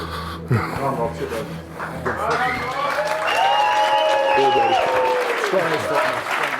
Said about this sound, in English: Round of applause to Rob Frampton there,